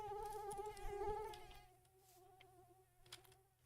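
Mosquitoes whine with a steady, wavering buzz in the Jurassic Park modpack game, fairly faint, and the buzz thins partway through as other insect-like hums flicker in and out.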